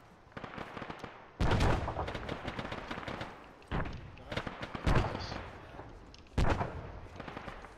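Arma 3 combat with several sharp, close bursts of gunfire and explosive blasts spaced a few seconds apart, a grenade among them, over a low battle background.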